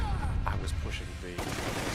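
Gunfire in the video game Resident Evil: The Umbrella Chronicles, a few quick gunshot bursts over dense game sound, fairly loud and close.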